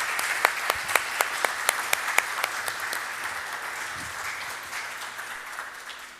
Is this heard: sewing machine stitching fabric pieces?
no